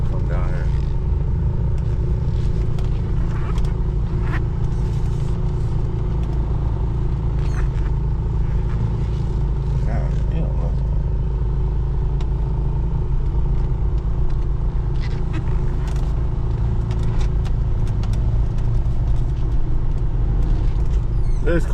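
A sluggish car's engine drones steadily while driving, a constant low rumble heard from inside the cabin, with people talking over it at times.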